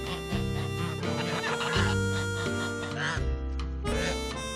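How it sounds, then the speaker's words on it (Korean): Geese on a farm kept alongside chickens and ducks, honking in loud, overlapping nasal calls that come in repeated bursts, close by and continuous. "거위들은 항상 시끄럽게 무언가를 얘기한다."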